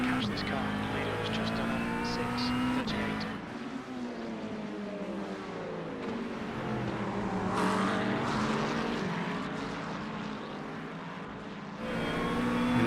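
A race car's engine in a VR racing game at the Nürburgring Nordschleife, droning steadily with rising and falling pitch as it revs through gears, loud and continuous, with someone talking over it.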